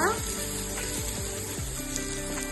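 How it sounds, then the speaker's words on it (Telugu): Coriander, mint and fenugreek leaves fry in hot oil for a mutton biryani, producing a steady, close sizzle with a few stirring scrapes and faint background murmur. "పుదీనా, మెంతాకు 3 వేయించుకొని మళ్ళీ కొంచెం వేయించుకున్నాం."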